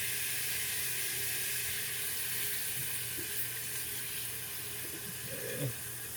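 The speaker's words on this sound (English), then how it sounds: "we're gonna add about a half a cup of water" Water pours steadily into a cooking pan for a chicken piccata sauce, a soft continuous hiss and gurgle with faint sizzling, quiet and with no one talking.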